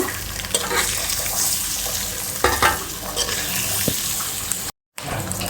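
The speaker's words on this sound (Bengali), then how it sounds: "ডিমটা খুব সুন্দর করে ফ্রাই করে আমি তুলে নেব" An egg frying in hot oil, with a continuous, close sizzle and crackle broken by a few sharper spatters and stirring scrapes, then a brief total dropout before the frying noise returns.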